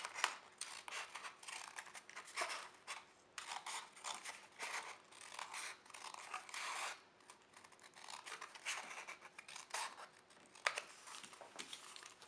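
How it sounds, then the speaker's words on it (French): Scissors snipping through paper for a kids' scrapbooking craft, a run of quick, crisp cuts in close succession with brief pauses, close and quiet. "Ensuite, vous allez couper à peu près 1 cm de votre marque."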